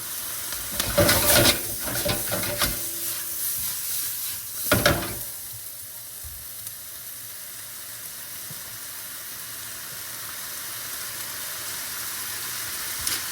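Chicken for fajitas sizzling in a hot pan, a steady frying hiss with a few louder crackling bursts and stirring sounds near the start, then a calmer continuous sizzle.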